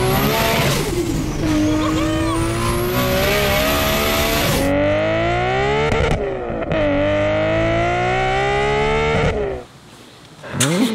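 A high-performance car engine revs hard and loud up close, climbing in pitch, dropping back, then surging again through several sharp throttle blips before cutting off near the end.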